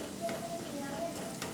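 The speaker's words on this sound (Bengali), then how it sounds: "এবার পেঁয়াজটা ভালো করে ভাজা অবধি" Onions frying in oil in a pan for a pabda fish curry give off a soft, steady sizzle, faint and continuous with no talking.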